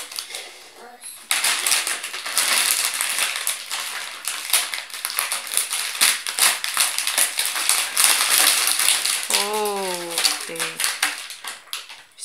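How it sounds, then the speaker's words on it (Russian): Wrapped Snickers and Milky Way bars tumbling out onto a table, a loud, dense clatter and crinkle of wrappers that runs for several seconds, with a voice talking near the end. "И открываем Milky Way, высыпай на стол."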